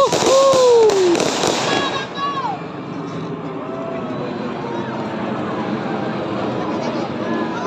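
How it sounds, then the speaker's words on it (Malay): Firecrackers burst and crackle during a nighttime festive fireworks celebration on the fifth day of Raya in Banting, loud sharp bangs at first, then a lingering whistle and crackling amid crowd noise while people shout and talk. "Mercun jatuh atas kepala. Bahaya."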